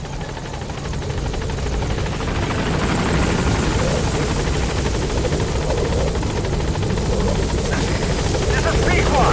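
The helicopter Pequod gaining altitude in the video game Metal Gear Solid 5, a steady loud rotor thrum and engine drone that continues throughout with no break.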